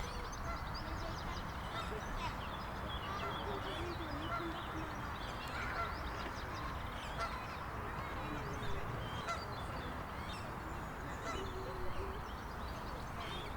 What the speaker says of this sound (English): I think we may have a grey-leg goose, or pink-footed goose.